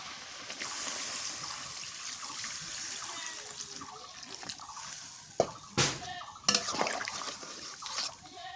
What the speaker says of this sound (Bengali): এখন হচ্ছে ঝোলের পানি দিয়ে দিই